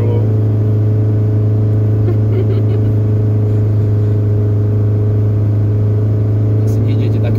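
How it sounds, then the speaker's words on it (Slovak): A car engine hums loudly and steadily while the car reverses, close to the listener, under a heavy low drone with slight rises in revs. People talk quietly in the background. "A ideme na spiatočke, lebo sme frajeri."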